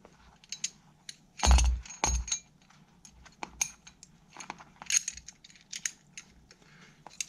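Small metal parts of a Hitch Hiker X rope ascending and descending device clack and click close up as its pin and plunger are turned and pulled out, in a few sharp taps among faint handling noises.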